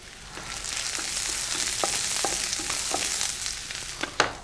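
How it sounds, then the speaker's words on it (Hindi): Ginger and garlic sizzle in hot oil with a steady, close frying hiss, broken by a few light clinks and stirring taps. "जब ये तेल थोड़ा सा गर्म हो जाए तो उसके बाद इसमें ये हम अदरक डालेंगे और ये लहसुन।"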